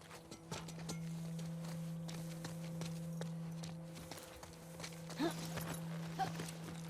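Horse hooves walking in the video game The Last of Us Part II, a steady, moderately close clip-clop of footfalls over a constant low hum, with a brief snort or whinny toward the end.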